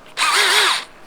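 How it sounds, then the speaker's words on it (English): A power drill bores a tap hole into a maple tree on a New Hampshire homestead, giving one close, steady whining burst with a slight rise and fall in pitch, about two-thirds of a second long. "So that's where we'll drill"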